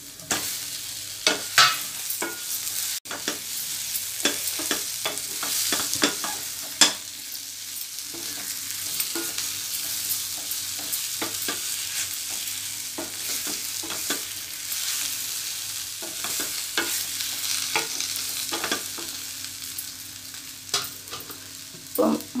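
Fried brinjal stirred into a frying masala gravy over a slow flame, with a steady soft sizzle and repeated scraping stirs throughout, no voices.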